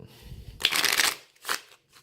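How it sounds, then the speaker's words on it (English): A deck of playing cards shuffled in two quick riffling bursts, the first longer and fuller, the second short, close by and fairly quiet, with faint low handling noise before and between. "And go ahead and get those shuffled up."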